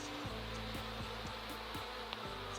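Honey bees buzz around hive frames while a beekeeper assembles the nest for winter, a low droning hum with repeated pulsing swells, close and fairly loud.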